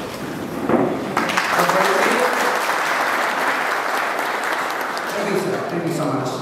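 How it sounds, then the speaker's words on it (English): An audience at a felicitation ceremony for an UPSC civil services exam achiever gives a sustained round of applause, dense clapping that swells after a moment and holds steady, with a voice faintly audible near the start and end. "we'd like to acknowledge you with a round of applause"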